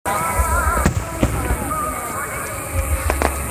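Repeated fireworks bursts at the Shinmei fireworks festival in Japan, sharp booms with crackling tails, some close and loud, over a steady roar of crowd noise and faint voices.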